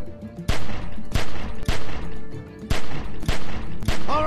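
Gunfire in The Walking Dead video game, loud repeated shots in uneven bursts, each a sharp crack with ringing decay, fired close and dominating the scene.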